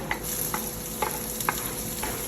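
Onions sizzle and fry steadily in a pan while a utensil stirs them in regular clinks and scrapes about every half second, close and fairly loud.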